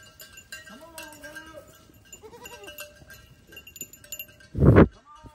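Goats bleat on a farm in a few wavering calls spread across the clip, ending in a loud, close, harsh bleat, with faint clinks and a voice calling the animals in the background.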